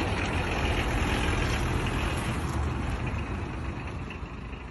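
A Mitsubishi L300 campervan engine labours while towing a Datsun, a loud, dense, rumbling roar that holds steady and eases slightly toward the end, with no voices.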